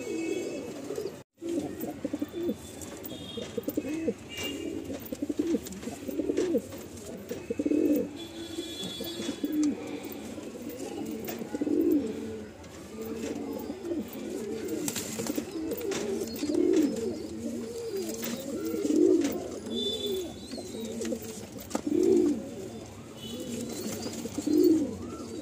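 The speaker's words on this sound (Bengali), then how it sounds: "এটা হলো একটা ফিমেল পায়রা, আসুন পেয়ারটা ছেড়ে দেখায়।" Mundi Sada pigeons, including a female, give repeated soft low cooing calls in a loose rhythm, close by and fairly quiet, with faint rustling between the coos and no talking.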